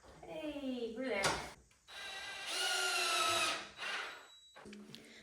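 A power drill fastens plywood bed side rails in a DIY folding bed build, with short bursts of whirring interrupted by pauses, close up, and speech in the background.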